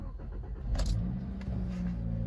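A Toyota Corolla Cross XR engine, running on ethanol, cranks and catches, then settles into a steady low idle, heard close up with no talking.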